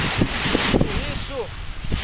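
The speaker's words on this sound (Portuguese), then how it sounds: "tá com vento toda hora agora" Gusty wind buffets a microphone outdoors at a flight-training field in Jundiaí, a steady rough roar that swells and dips, with voices talking over it and a brief whistling tone.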